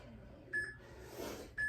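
Short electronic workout-timer beeps counting down, two brief tones about a second apart, quiet and clean over a faint background hum, no talking.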